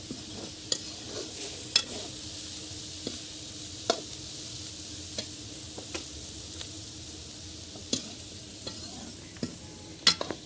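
Tinda gourd and onions fry in a pan for a Punjabi sabzi, with a soft, steady sizzle under repeated sharp clicks and scrapes from a spoon stirring against the vessel, all fairly quiet and close.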